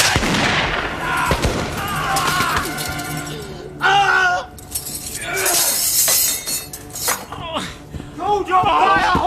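Musket-era gunfire in a naval period drama, a ragged volley of loud close shots and sharp cracks mixed with shouting voices and dramatic music.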